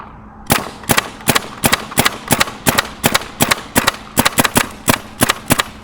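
A Tippmann Raider paintball gun fires about twenty sharp, close shots in a quick, slightly uneven rhythm, some landing in fast pairs, with no voices over them.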